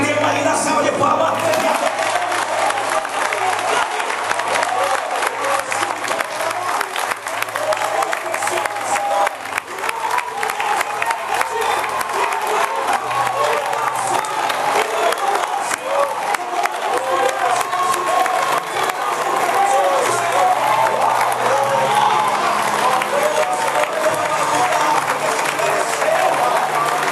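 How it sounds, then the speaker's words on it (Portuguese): A church congregation bursts into sustained, loud applause that goes on steadily for about half a minute, mixed with cheers and shouts from the crowd. "tem uma linda salva de palmas"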